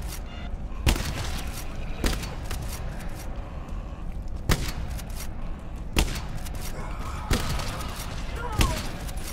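Gunfire in the co-op shooter GTFO: single sharp shots spaced roughly every second or two over a steady, noisy background, with players talking between them.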